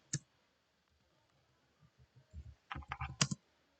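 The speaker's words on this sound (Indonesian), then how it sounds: "Lalu kita ketik password." Password being typed on a computer keyboard: one sharp click, a pause, then a quickening run of close key taps in a quiet room.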